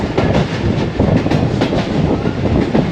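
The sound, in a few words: Pak Business Express train passing through at speed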